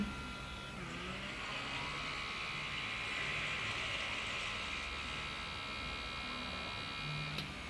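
A Xiaomi InFace blackhead remover hums steadily in its high suction mode, a constant close electric whine with a faint motor drone, running alone without talk.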